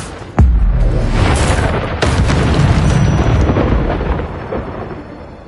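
Incendio fire spell in Hogwarts Legacy bursts with a sudden loud boom, then a roaring, crackling rumble that rolls on and slowly fades over several seconds.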